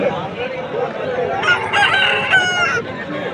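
Heavy rooster of about four kilograms at a Vijayawada poultry market crows once, loud and close, a long drawn-out cock-a-doodle-doo over a murmur of market voices and clucking.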